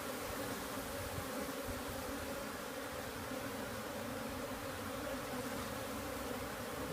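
An Africanized honey bee swarm in a neighborhood hums in a continuous, even buzz, close and steady throughout with no voices.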